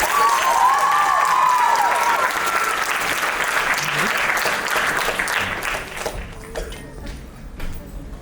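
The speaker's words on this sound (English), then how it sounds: "Please give a round of applause once again to Anya." An audience at an annual dance recital applauds after a performance, with dense, sustained clapping that slowly thins and fades toward the end.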